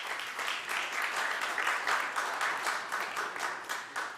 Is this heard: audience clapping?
yes